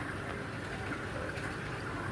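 Mini USB aquarium aerator bubbling air into water through an air stone, a steady close rushing fizz of bubbles that stays even and continuous throughout.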